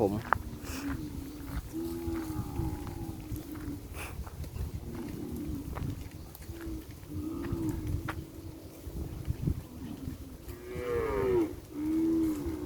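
Cattle low repeatedly across an open pasture where cows have been turned out to graze and newborn calves lie nearby, several moos rising from the steady outdoor background while people talk quietly.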